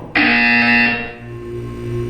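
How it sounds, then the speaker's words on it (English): A loud, harsh electronic buzzer in the video game Portal 2 blares abruptly for about a second, then trails off into a lingering hum. "You will hear a buzzer."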